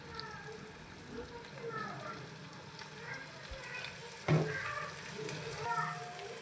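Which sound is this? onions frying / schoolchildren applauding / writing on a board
onions frying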